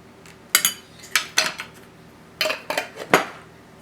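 A utensil clinks and scrapes against a bowl while butter and garlic are mixed for garlic bread, in a handful of short sharp bursts in quick groups separated by brief pauses.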